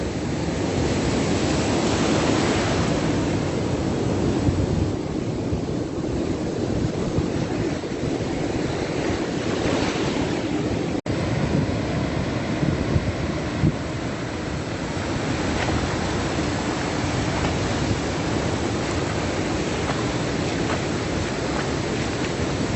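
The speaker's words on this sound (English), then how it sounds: "Here I am in the ocean." Strong ocean surf at Vung Tau Back Beach in Vietnam, recorded from in the water at sunrise: a continuous loud wash of breaking waves with heavy wind buffeting the microphone.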